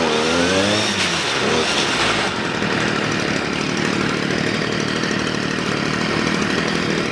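A Stihl FS 55 petrol trimmer with a carburetor fault, which fails to reach full revs and stalls, warms up at a loud steady idle close to the microphone after a brief rev swing at the start.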